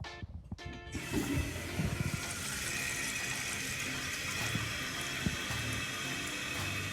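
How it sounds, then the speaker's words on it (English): Water rushing steadily into a toilet tank as it refills after a new flapper is fitted, a continuous close hiss with faint bubbling that runs for several seconds after a short quiet start. "Let the water fill up."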